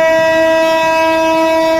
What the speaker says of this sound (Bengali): ট্রেনের যে সাউন্ড,